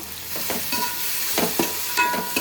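A spoon stirs chicken curry masala in a pan, scraping in short, repeated strokes over a constant loud hiss of frying. The sound is close and there is no talk.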